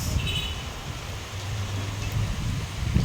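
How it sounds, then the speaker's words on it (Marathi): Steady rain hisses over the whole stretch, with a low rumble underneath and a faint bird call early on. "वा वा मस्त पाऊस सुरू झालेला आहे"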